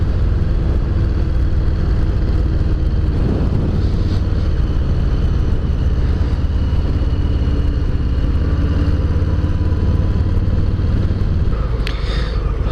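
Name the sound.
Harley-Davidson Low Rider S 114 engine while riding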